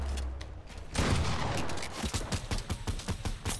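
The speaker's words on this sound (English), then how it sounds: "He's shooting me." Rapid gunfire in a Fortnite Team Rumble match, a dense burst of shots opening into a sustained volley and then continuing as quick, irregular cracks close by, loud throughout with no talk over it.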